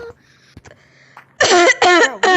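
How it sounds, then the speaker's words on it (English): Several short, loud coughs or throat-clearing bursts come in quick succession through voice chat in the VR game Gorilla Tag, following a few faint sounds. "Stop coughing."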